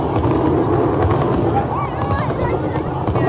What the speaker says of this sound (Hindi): पटाखों का साउंड अलग से चलाया जा रहा है।